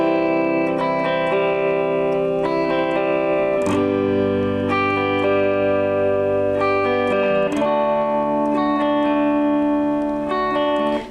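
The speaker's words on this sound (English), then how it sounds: "I was just strumming each chord and then plucking strings 1, 2 and 3 a couple of times" Electric guitar playing a chord progression, strummed chords followed by repeated plucks on the top three strings, with chorus and reverb effects, sustained ringing tones and chord changes every few seconds, no voices.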